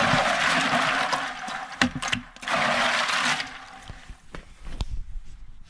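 Bucket of hail mixed with water poured onto an outdoor wireless access point during a torture test, a loud continuous rushing splash with a few sharp knocks, then fading to trickles and drips.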